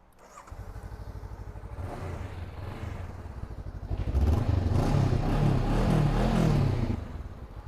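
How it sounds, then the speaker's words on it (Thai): A cold Honda CBR500R sport bike with its stock twin-outlet exhaust idles with a fast chugging beat, then revs up louder and rougher in the middle before easing back, close by. "เครื่องเย็นๆก็เร่งขึ้นสบายนะ"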